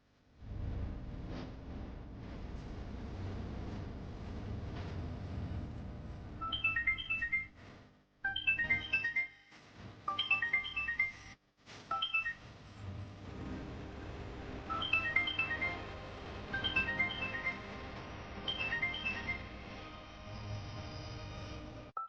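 A mobile phone ringtone plays a repeated bright electronic melody in short bursts with brief gaps, loud and close, over a low background hum.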